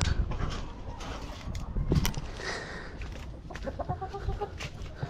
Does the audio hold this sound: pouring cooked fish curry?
no